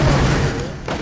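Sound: gunfire in a video game

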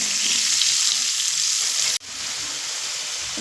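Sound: potatoes frying in oil on medium flame

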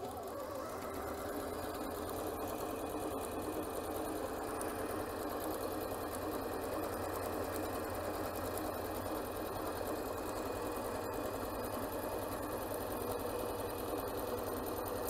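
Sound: Janome C30 sewing machine sewing up to the pin

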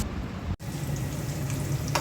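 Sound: papad and sweet pumpkin frying in a pan

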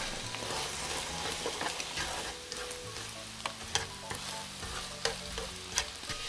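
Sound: tteokbokki and egg frying in oil, stirred

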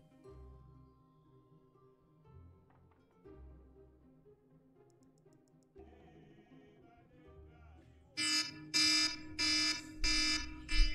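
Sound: iPhone alarm clock ringing

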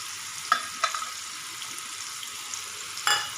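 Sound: frying onion and tomato for a tadka (tempering)

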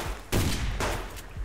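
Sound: gunfire in the video game Subsistence

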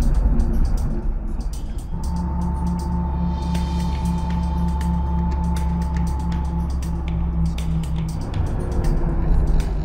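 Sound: 38-year-old Soviet car driving in Los Angeles traffic

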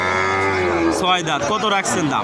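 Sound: cow mooing at cattle market

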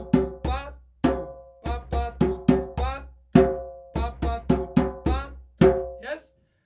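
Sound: conga rhythm of tones and opens

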